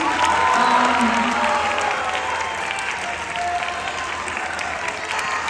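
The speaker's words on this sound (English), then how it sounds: "one round of applause for these jazz seniors" An awards-ceremony audience at a school band event gives a sustained round of applause for jazz program seniors, dense clapping with some crowd cheering, loudest at the start and easing slightly while staying full throughout.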